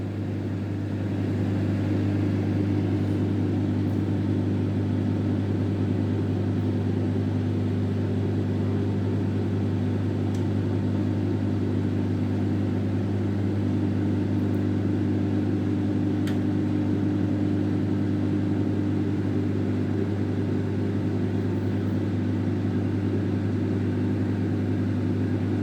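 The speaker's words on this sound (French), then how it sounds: "vous voyez bien comment ça tourne là-dedans, dans le micro-ondes" A microwave oven runs steadily while cooking chikwangue (cassava bread), giving a continuous low hum with a constant mechanical drone and no pauses or talking.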